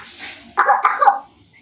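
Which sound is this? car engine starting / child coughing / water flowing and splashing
child coughing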